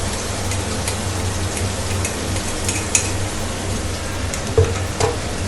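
Onion, garlic and ginger paste fries in a pan of green bananas, a steady close sizzle throughout with a couple of brief clinks from stirring.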